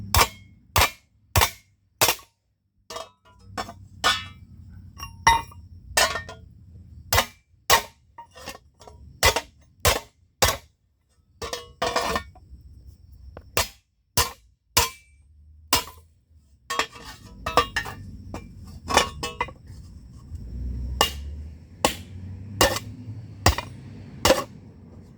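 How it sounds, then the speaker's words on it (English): Hammer striking the edges of a hot forged small metal pan, sharp metallic blows landing in quick runs with short pauses, close and loud over low background noise. "Just checking to see if it's hot enough to hammer out the edges a little bit."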